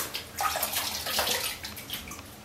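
A Rockwell 6C safety razor slips off a wet edge into water in a sink basin, giving a short, close splash and watery swirl that lasts a couple of seconds with no voices.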